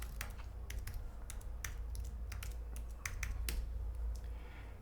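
Quick, light keystrokes on a computer keyboard as a sudo reboot command is typed on a Red Hat Linux system, with close, crisp clicks coming in uneven bursts over a soft background hum and no talking.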